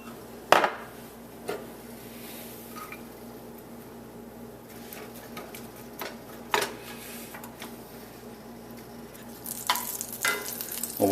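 Garlic and onions hit oil in a hot pan and settle into a low, steady sizzle, broken by occasional sharp clinks and scrapes of stirring.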